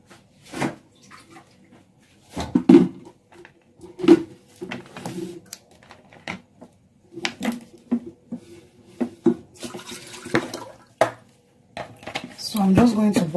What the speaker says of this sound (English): I'm going to just cover this and then boil this one.